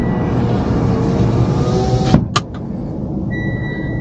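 A car's seatbelt warning alarm chimes with steady, repeated high tones at a Dubai petrol station, starting after a brief door-like clunk and ringing clearly over the low hum of the vehicle.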